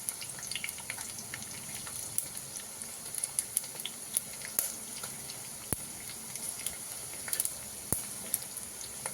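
Asafoetida dropped into hot oil tempering with chopped garlic for a buttermilk vegetable dish, giving a steady, fairly quiet sizzle with scattered sharp crackles and pops throughout, close up and without talk.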